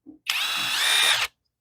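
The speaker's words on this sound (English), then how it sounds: "most impact wrenches that I've dealt with are just kind of like crazy. As you pull the trigger, it just goes nuts." A cordless 1/2-inch impact wrench runs free with the trigger held, a steady high-pitched whine lasting about a second, close and loud, after a brief click.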